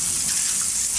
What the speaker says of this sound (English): Accidental flush of toilet.